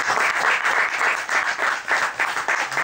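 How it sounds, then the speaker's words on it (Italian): Sustained audience applause fills the room at a book-festival stage event, dense and steady with no break, loud and close throughout. "però voglio fare un applauso."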